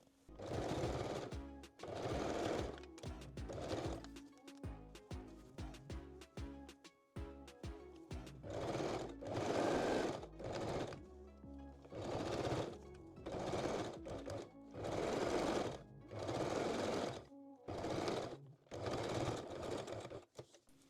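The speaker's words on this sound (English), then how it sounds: "Then fold the elastic and stitch it again." A sewing machine stitches folded elastic for a foam-cup bralette in repeated bursts of rapid mechanical chatter, each lasting a second or two with short pauses between, close and steady throughout with no talking.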